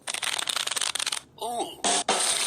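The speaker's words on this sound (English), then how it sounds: "Let me just shuffle." A card-shuffling effect from the Exploding Kittens video game plays as a quick flurry of riffling clicks for just over a second, then brief tonal game sounds and a couple of short bursts of noise.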